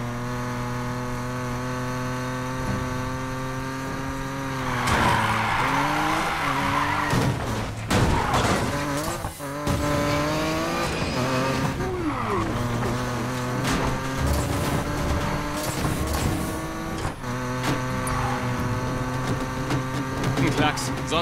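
Racing car engines rev and whine with repeated tire skids and squeals in the Need for Speed Payback video game, loud and continuous, with bursts of screeching over a steady engine drone.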